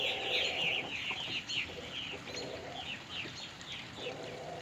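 Soft clucking from several chickens at a distance, irregular and overlapping, with other faint bird calls, including purple martins and pigeons, mixed in.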